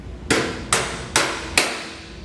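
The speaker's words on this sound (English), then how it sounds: "And we just want to give it a tap like that. You usually do have to hit it pretty hard." Hammer striking a bolt to drive it out of the splines of a Dexter heavy-duty single-axle trailer suspension: four evenly spaced, loud, close metallic blows, each ringing briefly before the next.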